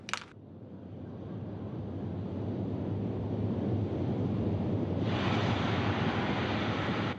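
The Soyuz TMA-19M rocket's liquid-fuel engines roar at liftoff from Baikonur, a dense, steady broadband rumble that swells after a sharp opening crack and grows louder and brighter midway.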